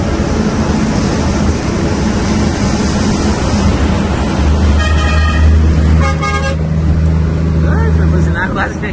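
A car horn blares in Brazilian road traffic: one sustained blast lasting about four seconds rises above the engine and road noise, with voices talking nearby.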